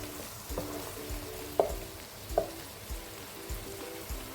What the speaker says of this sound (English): Mix everything to combine.